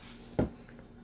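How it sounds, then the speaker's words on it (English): A single short squirt of WD-40 oil onto a knife-sharpening stone, a quick soft hiss lasting a split second against quiet room noise. "I use your WD-40. You just want to give it a little squirt."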